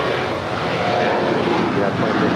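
Airliner jet engines roar steadily at LAX near runway 25 right, a loud, continuous broadband rumble filling the short stretch.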